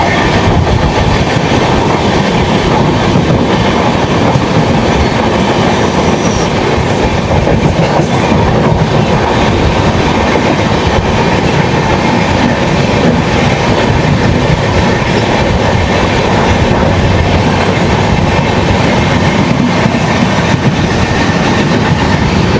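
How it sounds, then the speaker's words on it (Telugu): A steady, loud rumble and clatter of a passing train, heard from aboard the Konark Express 11019 on the Kalaburagi to Khurda Road run, with continuous wheel noise throughout and nobody speaking. "train crossing"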